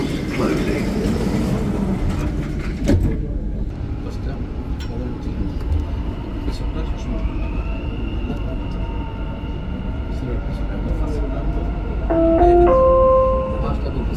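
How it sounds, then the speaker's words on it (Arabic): Dubai Metro train doors close with a clunk, then the train pulls away with a rising, steady motor whine and rail rumble, followed by a few chime tones near the end. "Doors closing."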